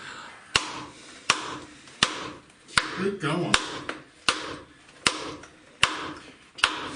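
A hammer strikes a core sampling tube inside a cave in a steady series of sharp, ringing metallic blows, about one every three quarters of a second, with people talking briefly between them.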